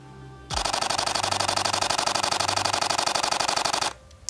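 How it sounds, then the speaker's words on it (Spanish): A Canon EOS R6 full-frame camera fires its mechanical shutter in a rapid burst at 12 frames per second, a close, crisp, evenly spaced machine-gun rattle lasting about three and a half seconds before stopping abruptly. "si utilizamos la obturación no electrónica, la física, llegamos no a 20, pero sí a 12 fotos por segundo. Suena tal que así"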